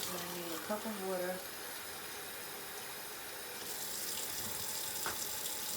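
Water runs from a kitchen tap into a cup as a steady, faint hiss and splash, with a brief voice near the start.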